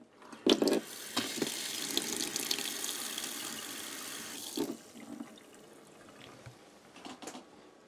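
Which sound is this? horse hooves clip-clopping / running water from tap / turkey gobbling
running water from tap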